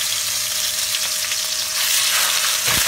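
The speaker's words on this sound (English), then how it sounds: "let that sizzle away skin side first" Salmon fillet laid skin side down in a hot frying pan sizzles loudly and steadily, a dense crackling hiss that swells slightly near the end, with a brief clunk of the pan.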